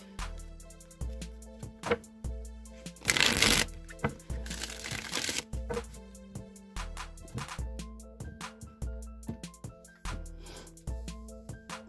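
A Rider-Waite tarot deck gets shuffled nearby: two short rushing riffles amid a steady pattern of soft taps and clicks from handling the cards.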